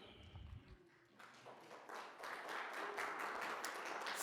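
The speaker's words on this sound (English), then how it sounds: "So please give a round of applause to the platinum sponsors" Audience applause for platinum sponsors at a Bloomington Black History Month kick-off event, with dense, steady clapping that builds after a brief low murmur and continues strongly to the end.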